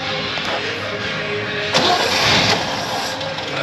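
A 1962 Chevy C10 Custom pickup engine cranks and catches after forty years sitting on a farm, a rough burst of starting noise midway that settles into a ragged low running sound.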